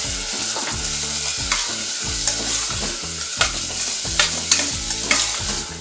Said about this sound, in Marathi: आणि आता हे सर्व साहित्य चांगलं असं हा टोमॅटो मऊ होईपर्यंत परतवून घ्यायचं